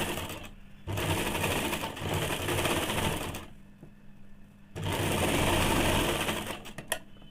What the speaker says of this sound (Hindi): अब ये कपड़ा को दोनों साइड करके इस प्रकार से 1-1 चाप सिलाई डाल देंगे